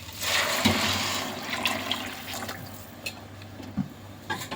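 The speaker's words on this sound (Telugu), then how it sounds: "ఆ వాటర్ ఇందులో పోసేద్దాం." Pre-heated water poured from a glass into a cooking pot for veg biryani, a steady gushing splash that tapers into a few drips and small splashes.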